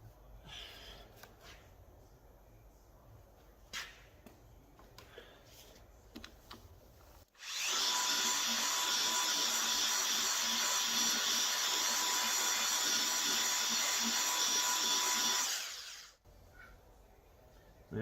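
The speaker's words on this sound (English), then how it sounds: "It does need a little bit more polishing, so let's give that another going over." A machine polisher works over the bodywork of a Fiat Coupe, running as a loud, steady whine for about nine seconds before cutting off, with quieter handling noises before and after.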